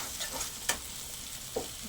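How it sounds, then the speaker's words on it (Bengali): Boiled potato pieces stirred into fried spice masala for chola bhuna, soft scraping and sizzling with a couple of sharper spoon clinks against the pan, close by. "এই মশলার সঙ্গে খুব ভালো করে আমি মিশিয়ে নেব"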